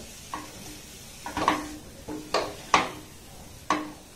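A thickening mixture stirred in a pan on the stove, with about five distinct scraping strokes of a utensil against the pan over a faint background hiss, close and alone.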